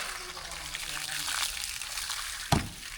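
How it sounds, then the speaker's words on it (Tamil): Water trickles and pours steadily as it is mixed into soil for temple construction work, a continuous wet splashing with a brief louder slosh near the end. "தண்ணி ஊற்றி குழப்பிட்டு"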